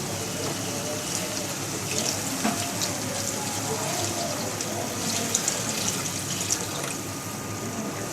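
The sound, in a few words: water poured into pot of fried potatoes for curry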